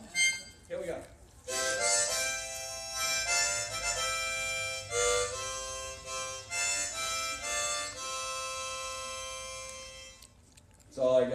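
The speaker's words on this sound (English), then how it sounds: "Bought a harmonica." A harmonica plays a short tune of bright, reedy held notes and chords in a small café setting, with brief pauses between phrases and no other sound competing.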